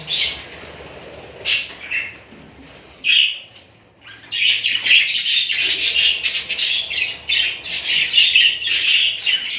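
Budgerigar chicks in a breeding cage give dense, high raspy calls close by, sporadic at first then swelling into a continuous chattering chorus.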